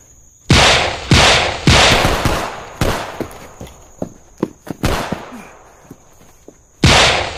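A Colt Detective Special prop revolver fires a string of loud cracking shots. They come in uneven bursts with fainter snaps in between, and one last sharp report follows a short pause.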